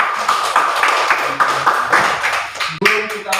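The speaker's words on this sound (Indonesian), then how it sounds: "Tepuk tangan semua." A fourth-grade class of pupils claps their hands together in a burst of quick, fairly loud claps, with voices mixing in and a few sharp taps toward the end.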